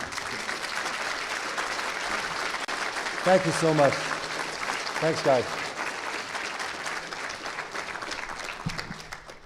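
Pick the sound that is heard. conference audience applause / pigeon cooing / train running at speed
conference audience applause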